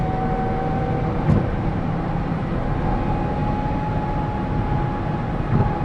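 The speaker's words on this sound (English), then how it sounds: "even in 8, this thing accelerates like an airplane" A Cadillac CTS-V accelerates in eighth gear, its engine giving a steady, droning cabin rumble with a faint rising whine that holds evenly throughout, with no talk over it.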